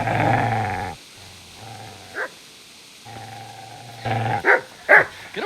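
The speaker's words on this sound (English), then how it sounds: "Get away, you mutt!" A dog in the medieval video game Kingdom Come Deliverance growls low, then breaks into several sharp, loud barks near the end, all close and with no talking.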